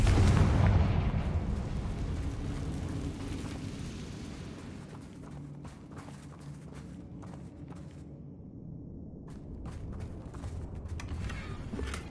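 A Confringo blasting spell from the Hogwarts Legacy video game goes off as a loud burst at the start, then its rumbling boom fades into a softer, fluttering tail.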